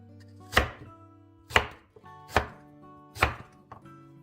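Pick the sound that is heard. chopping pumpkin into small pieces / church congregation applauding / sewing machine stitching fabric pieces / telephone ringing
chopping pumpkin into small pieces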